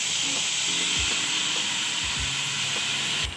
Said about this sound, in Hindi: मैं इसको पैन में पका रही हूँ